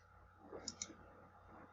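Two quick, faint computer mouse clicks close together against a quiet room background, heard while deleting files from a server.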